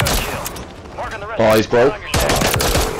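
Rapid gunfire in a video game shootout rattles in dense bursts. Voices talk over the shots, and a short gap near the middle carries tonal game or voice sounds.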